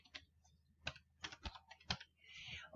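Keys clack on a computer keyboard while entering data into an Excel spreadsheet, a sparse run of quiet, close taps and clicks at an uneven rhythm.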